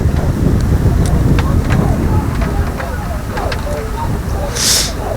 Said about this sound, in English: A very stiff headwind here.